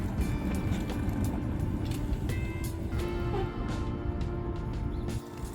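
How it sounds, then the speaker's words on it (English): An electric go-kart on a test drive gives a faint, steady whirring rumble with a light motor whine, heard from nearby outdoors. "this is our first test drive today of our electric vehicle"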